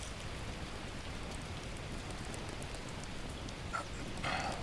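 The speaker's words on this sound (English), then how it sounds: "it looks like the rain may be stopping soon anyway" Steady rain patters continuously in the survival video game The Last Plague: Blight, a soft even hiss at low level with a faint brief knock near the end.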